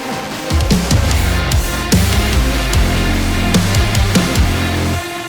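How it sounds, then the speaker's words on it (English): A synthesizer intro melody from a music production session plays loud and alone, with pitched notes stepping up and down in a quick rhythmic pattern for about five seconds. "So I have this synth intro here at the beginning that sounds like this."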